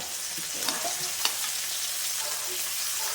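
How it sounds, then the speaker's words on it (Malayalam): Sliced onions fry in hot coconut oil in a wok, a steady soft sizzle with a few faint stirring scrapes, close and even throughout. "എണ്ണ നല്ല ചൂടായിട്ടുണ്ട് അതിലേക്ക് നമുക്ക് സബോള"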